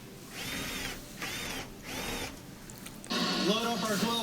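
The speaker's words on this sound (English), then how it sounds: "we're putting the 2 little Phillips head screws back in the front to hold the whole pump assembly into position" Power drill driving small Phillips head screws into a Samsung washer's drain pump assembly, three short whirring bursts close by, followed by a louder, longer run of higher-pitched drilling.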